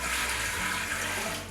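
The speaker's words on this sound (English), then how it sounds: "we're gonna add in 6 cups of water" Water gushing steadily into an Instant Pot's inner pot while six cups are added, a loud, continuous close pour that runs without pause before easing slightly at the end.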